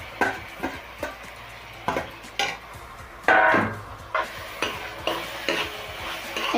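Tomatoes frying in a pan for vegetable soup, with a utensil scraping and clacking in a steady rhythm of about a dozen close strokes over a soft sizzle.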